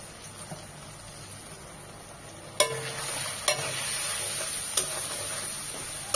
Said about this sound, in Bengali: একটু পানি দিয়ে মশলাগুলোকে খুব ভালোভাবে কষিয়ে নেব